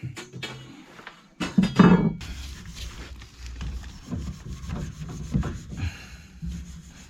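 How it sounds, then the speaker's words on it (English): Steel wool scrubbed against a painted pipe during radiator plumbing work, giving close, uneven scratchy rubbing strokes with a few knocks and handling noises. "if it's painted I'll just heat it up and use steel wool on top"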